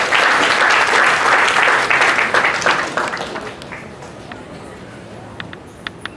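Audience in a hall bursts into loud, dense applause that holds strongly for a few seconds, then thins out to scattered claps that trail away.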